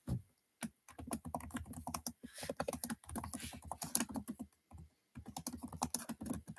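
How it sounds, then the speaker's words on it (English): A computer keyboard is typed on in fast, steady bursts of soft clicking, with brief pauses between runs, close and fairly quiet. "I think I have finished typing"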